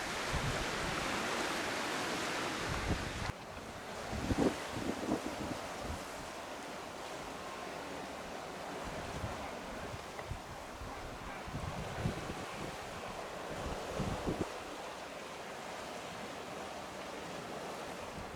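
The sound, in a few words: wind on the coast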